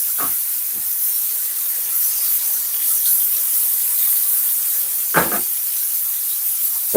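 Butter sizzles in a hot pan around pork tenderloin, a soft, steady hiss held close for several seconds, with a few sharp scraping bursts near the start and again toward the end.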